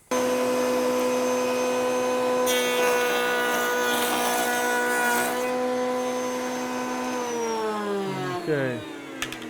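Router table cutting a tongue along a wood board, a loud high-pitched whine that holds steady before the cut tails off and the motor spins down near the end, with no talking.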